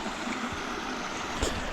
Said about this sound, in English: A little waterfall we got going on here.